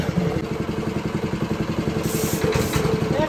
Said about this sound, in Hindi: तो इंजन का आरपीएम का तो पता चल गया, लो पर रखिए चालू